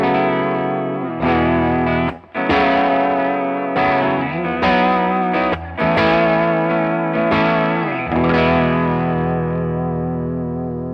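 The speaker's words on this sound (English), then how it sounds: "I'm going to give us some of the more crazy vibrato tones that we get the name warped vinyl from" Chase Bliss Warped Vinyl pedal set to a triangle-wave vibrato, processing sustained chords for about eleven seconds: loud, thick, wavering pitch with a slow seasick wobble, brief gaps between strums and a light echoing tail, no voices.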